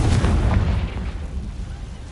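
A Confringo fire spell blasts in Hogwarts Legacy, a loud, booming explosion with a rumbling low tail that fades gradually over about two seconds.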